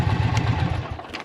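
Indian Challenger Dark Horse motorcycle idling close by, a steady low, throbbing engine pulse that is loud and even and fades slightly at the end, with no talking over it.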